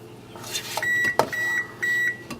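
Home oven beeping, three sustained electronic tones with short gaps between them, close and clear over a faint background hum.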